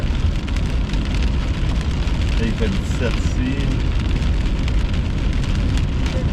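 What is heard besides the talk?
rain falling during a storm chase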